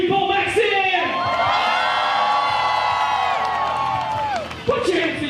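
Crowd at an outdoor BMX stunt show in a town square cheers, whoops and claps loudly for a rider, a steady roar with shouts rising over it and a brief louder burst near the end.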